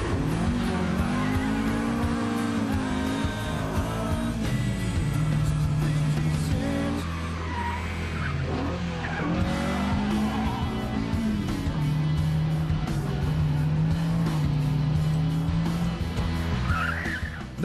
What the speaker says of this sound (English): When the rear starts to break loose in a fast curve, a skilled driver can easily catch it and power slide out of the curve at high speed.